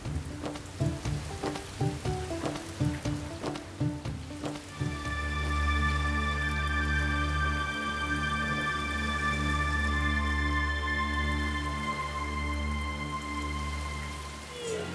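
Rain falls in a home courtyard as a steady, close hiss, first under rhythmic music and then under a sustained musical tone.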